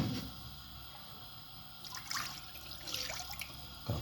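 Water, about one and a half cups, poured into a pot on a lit stove, heard as a close trickling, splashing run that swells and wavers over a few seconds.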